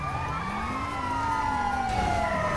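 Ambulance sirens from GTA 5 roleplay wail continuously and loudly, with a rising and falling tone and several siren layers sliding in pitch, close and sustained.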